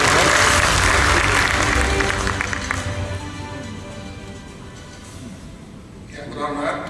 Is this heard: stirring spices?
no